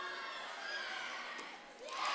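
Gymnastics teammates cheer from a distance at a college meet, a faint, diffuse crowd of shouts and calls that swells louder near the end.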